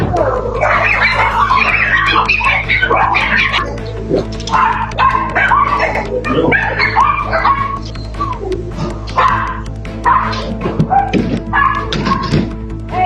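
Several young dogs yip, bark and whimper continuously and close by, high-pitched and excited, with a few muffled voices mixed in.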